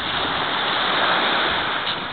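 Sea waves washing in a continuous loud rush of surf, close and unbroken, with no voices over it.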